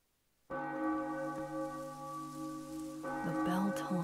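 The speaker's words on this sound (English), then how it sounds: "The bell tolls again." A bell tolls in the Octopath Traveler II video game, a long sustained ringing tone with rich harmonic overtones that hangs steadily after a sudden onset, with a second strike and some background rustle near the end.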